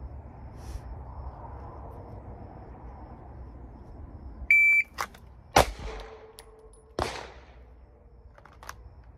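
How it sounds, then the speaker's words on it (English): A shot timer beeps once, then a pistol drawn from concealment fires a single sharp, loud report, followed by a few more sharp impacts or shots from nearby in a quiet outdoor setting. "1 shot from concealment, center mass, under 1 second."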